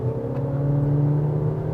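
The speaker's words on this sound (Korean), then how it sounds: "엔진음이 좀 많이 들어오긴 합니다." Honda CR-V gasoline engine heard from inside the cabin under hard acceleration, a steady rising drone with strong low harmonics that lasts briefly, with no talking.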